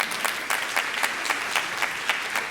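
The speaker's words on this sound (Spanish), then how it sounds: "Es unas fuertes palmas." Strong rhythmic clapping from a congregation at a church service, beating in a steady, even pulse of sharp claps at close range with no talk over it.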